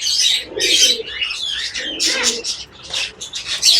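White crested pigeons give soft low coos mixed with sharp chirps from other birds, close and steady over several seconds, with an occasional faint flutter.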